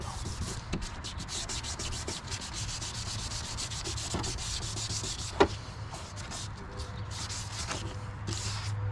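Steady wet abrasive rubbing of a yellowed car headlight lens with 800-grit sandpaper, a continuous close scrubbing hiss with faint rhythmic strokes and one brief sharp click midway, no talking.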